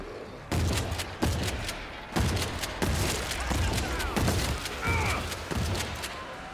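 Shotgun blasts ring out in the zombie shooter World War Z: Aftermath, around nine heavy booming shots fired in a steady rhythm about every half-second to second, loud and close.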